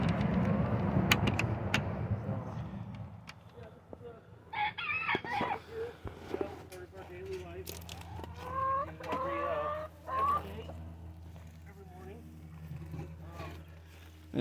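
Backyard chickens cluck and murmur in short, scattered calls at a moderate distance, alongside a rumbling noise at the start and some rustling handling sounds, while a person talks quietly nearby.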